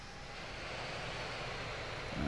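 Steady airliner engine drone in the Infinite Flight simulator during a descent over the Caribbean, a continuous broadband roar with no breaks, holding at moderate level throughout.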